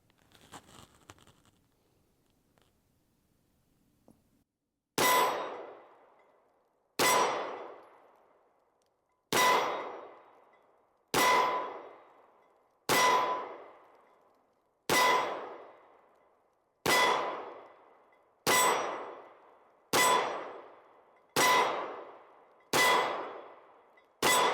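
Pistol shots from a Springfield Echelon or CZ P09 compact ringing off steel targets at a range: eleven sharp, evenly spaced cracks each followed by a loud metallic clang, after a few seconds of faint quiet.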